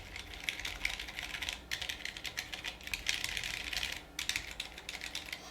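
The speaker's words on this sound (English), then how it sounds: "here's a little typing test for you to hear what the keyboard actually sounds like" Steady, fast typing on an Abkoncore AR87 full-aluminium mechanical keyboard with silent switches, soft muted key presses in a continuous close rhythm with two brief pauses.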